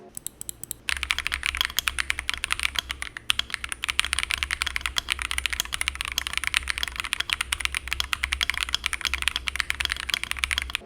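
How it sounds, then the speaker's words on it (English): Steady typing on a stock Epomaker Tide75 mechanical keyboard, a rapid run of thin, shrill, clacky keystrokes, close and continuous, with no voices. "Frankly, this keyboard does not sound good. It's thin and shrill and noisy."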